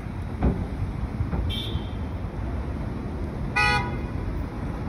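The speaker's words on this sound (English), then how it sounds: "The traffic is crazy. Honking and honking." Car horns honk amid heavy city traffic in Washington DC: a few short toots and a longer blare over a constant dense road rumble, heard from the street at moderate distance.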